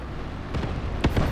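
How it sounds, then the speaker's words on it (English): A mortar shell exploding in the war game Graviteam Tactics: a short, muffled burst over a rumbling background, like a distant blast, followed by a fainter thump. "Did you see that mortar shell fall down?"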